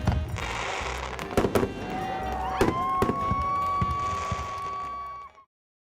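Fireworks at a Fire and Ice food and wine event in the Okanagan Valley thump and crackle in several sharp bangs over a hiss, with a rising whistle of a rocket streaking up before the sound cuts off abruptly.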